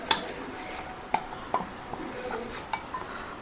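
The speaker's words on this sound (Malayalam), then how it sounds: "ഇതൊന്ന് നമുക്ക് മിക്സ് ചെയ്ത് കൊടുക്കാവേ. നന്നായിട്ട് മിക്സ് ചെയ്ത് കൊടുക്കുക." A spoon stirs glycerin into a homemade saffron and turmeric soap mixture, giving light, scattered clinks against a bowl at a moderate pace, close and fairly quiet.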